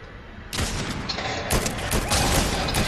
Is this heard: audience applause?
no